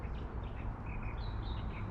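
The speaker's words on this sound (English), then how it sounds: "calling out there, that's the Australian red warbler." Australian reed warblers calling in a spring wetland at the end of winter, a steady wash of bird calls with repeated short chirping phrases over constant background noise, moderately distant and with no speech.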